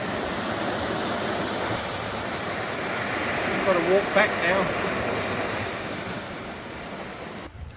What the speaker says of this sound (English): it's a great beach here at Pearl Bay